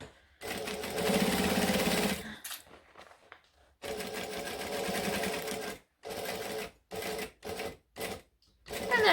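Sewing machine stitching a bag seam, running in close, loud bursts of whirring stitches separated by short pauses, the runs getting shorter and choppier near the end.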